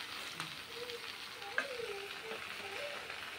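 Malabar spinach (pui shak) leaves frying in a pan with no water added: steady, moderately quiet hissing sizzle with faint clinks and stirring scrapes.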